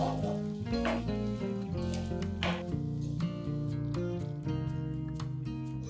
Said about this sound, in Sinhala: දැන් ආයෙත් හොඳට මික්ස් කරගන්න ඕනේ මේ ටික යාළුවනේ තප්පර 30ක් වගේ